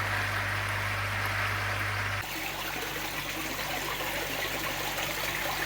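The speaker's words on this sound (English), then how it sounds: "Topping up the pond." Water pours steadily and continuously into a garden pond as it is topped up, with a low hum that drops out partway through. There is no talking.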